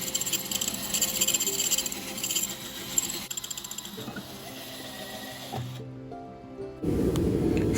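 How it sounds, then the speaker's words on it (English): A drill boring holes through a hot steel knife blank held in a vise straight from the forge, heard as steady mechanical whirring and ratcheting with rhythmic clicking, a brief pause near the end, then louder grinding. "So enjoy watching me get these holes drilled through."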